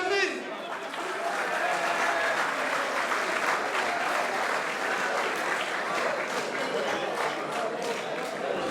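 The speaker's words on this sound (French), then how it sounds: "Mesdames et messieurs, vos applaudissements pour Patrick Camenu" Sustained, dense applause from an audience at a French autocross awards ceremony, steady and loud for the whole stretch with a crowd murmur underneath.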